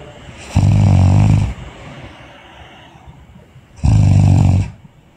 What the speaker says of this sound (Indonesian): Orang ngorok.